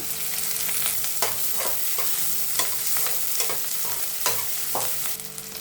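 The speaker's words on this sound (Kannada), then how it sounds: "ಈರುಳ್ಳಿ ಕರಿಬೇವು ಹಸಿಮೆಣಸಿನ್ಕಾಯಿ ಇದಿಷ್ಟನ್ನು ಚೆನ್ನಾಗಿ ಫ್ರೈ ಮಾಡ್ಕೊಂಬಿಡೋಣ" Onion, curry leaves and green chillies fry in hot oil with mustard seeds, a steady close sizzle broken by repeated scraping stirs of a spatula, no voices.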